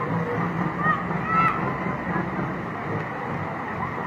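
Steady, loud rush of churning water, a continuous broadband roar that never lets up, with indistinct voices faintly mixed in.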